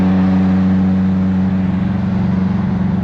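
A Mitsubishi Evo's engine idles loud and close with a steady low drone, then the note begins to pulse and waver as the car pulls off.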